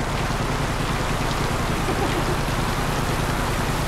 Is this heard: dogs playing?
no